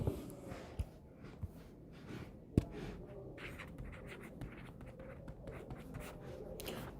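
Pen or pencil scratching across paper while math questions are written out, a steady soft scribble with a few light taps, close and quiet with no talking.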